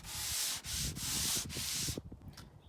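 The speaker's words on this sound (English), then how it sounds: "we have finished sanding the top" A wooden dresser top is being sanded for refinishing: four quick, rasping strokes in a steady back-and-forth rhythm, close and alone, ending in a few soft scrapes.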